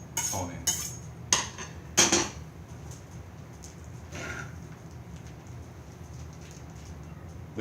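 A kitchen knife is drawn along a honing steel in a few sharp metallic scrapes and clinks, spaced irregularly and close up, then fading into quiet room tone.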